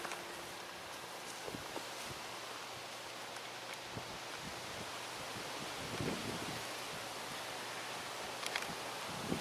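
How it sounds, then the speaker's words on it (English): Strong wind blows outdoors under a sky with streaky lines, a steady broadband rush with gusting swells and rumbling microphone buffeting throughout, and no voices. "Very windy."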